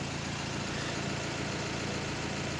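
A Renault Fluence 1.5 dCi diesel engine with a skipped timing belt runs at a steady idle, a loud, continuous rumble with no pauses and no voices.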